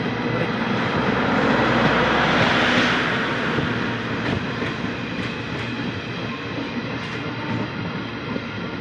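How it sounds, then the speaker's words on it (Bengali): A long-distance train from Rajasthan to Sealdah gradually slows toward a halt at a signal, its loud, steady rolling roar swelling and then easing off, with faint clicks of the wheels over rail joints. "ট্রেন আস্তে আস্তে স্লো হচ্ছে, স্লো হওয়ার পরে আস্তে আস্তে থেমে যাবে।"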